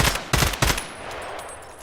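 Three quick, loud unsuppressed gunshots from a rifle in the video game Escape from Tarkov fire in close succession, followed by a fading echo and a low ambient hum.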